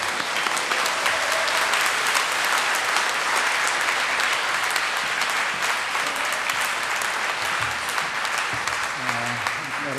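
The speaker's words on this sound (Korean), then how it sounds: "우리 김동호 목사님 박수로 모시도록 하겠습니다" A congregation at a Seattle revival meeting applauds loudly to welcome a guest pastor, a thick continuous roar of clapping that holds steady throughout, with a voice and faint music surfacing near the end.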